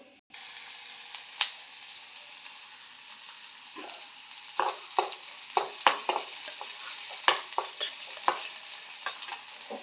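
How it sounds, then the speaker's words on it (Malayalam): Mustard seeds, onion and garlic fry in hot oil in a pan, giving a steady close sizzle. Scattered sharp pops and crackles and occasional stirring scrapes run over it, with no voices. "എണ്ണ ചൂടായിട്ടുണ്ട് അപ്പോൾ നമുക്കിതിലേക്ക് കടക്കിട്ട് കൊടുക്കാം"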